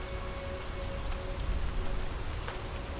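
Steady rain pours down in the 2019 video game Draugen, a dense continuous hiss of drops spattering on surfaces, holding even and close for the whole stretch with no voices.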